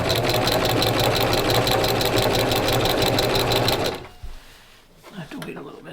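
A sewing machine stitches an accent pillow in a loud, steady run of rapid needle strokes for about four seconds, then stops abruptly, leaving quiet handling noises.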